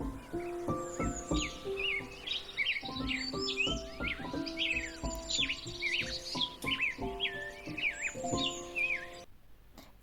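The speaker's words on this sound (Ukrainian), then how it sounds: "Давайте і ми послухаємо, як співають пташки." Many birds sing and chirp at once, a busy, bright chorus of tweets and trills that continues steadily without pause.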